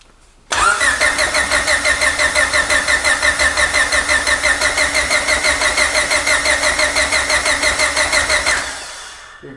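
A Honda B16 engine in an EF hatchback cranks with a rapid rhythmic churn, then catches and settles into a steady, loud idle that fades near the end.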